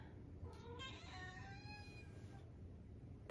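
A pet cat named Kitty meows softly nearby, a few faint drawn-out calls over a low background hum.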